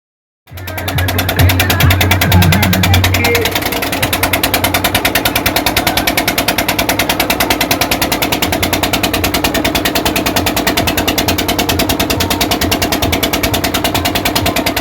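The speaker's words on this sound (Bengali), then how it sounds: "এখন কিন্তু আমরা আবার ট্রলারে করে ওপারে যাব।" A trawler boat's engine chugs loudly and close while crossing a river, starting abruptly and settling into a fast, even, throbbing rhythm that continues for the whole stretch.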